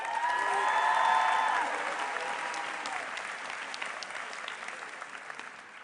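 Audience applause at a June 2019 Athena commencement ceremony, welcoming a speaker to the podium; steady crowd clapping with a few cheers, loudest early and then tapering slightly over six seconds.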